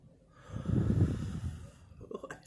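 A sharp, close nasal inhale during a chicken Alfredo eating session, a breathy snort swelling quickly and fading over about a second, followed by faint mouth sounds.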